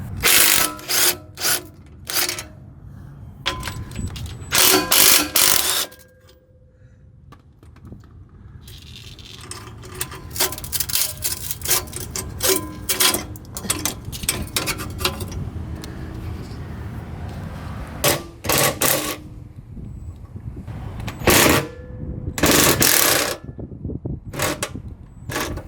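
A ratchet loosens 15 mm exhaust clamp bolts on a C5 Corvette Z06, giving bursts of quick metallic clicks, loud and close, broken by short pauses and a quieter mechanical stretch in the middle.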